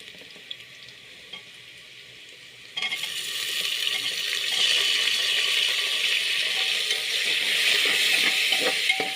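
Tomato hits a hot pan of browned onion for egg biryani, and a quiet stretch gives way to a sudden steady sizzle. The frying grows louder and keeps hissing with faint stirring clicks.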